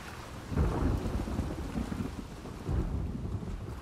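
A video-game thunderstorm in The Last of Us Part II, with lightning, rumbles over steady falling rain. Two deep, heavy thunder swells roll in, one after another, close and booming, with no talk.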